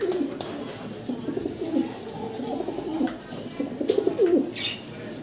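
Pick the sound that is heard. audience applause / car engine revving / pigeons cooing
pigeons cooing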